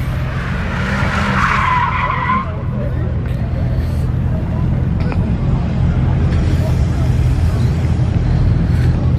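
A Ford Mustang at a car meet skids its tires with a loud screech near the start, then a sustained engine roar and rumble under crowd chatter and voices.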